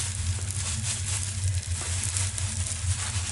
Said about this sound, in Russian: мы кидаем его уже, в принципе, на раскаленную сковородку